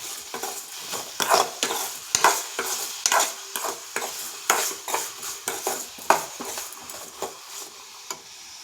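A spoon stirs onion tomato chutney with salt in a pan, scraping and clinking against the metal in an irregular run of close, distinct strokes over a soft sizzle.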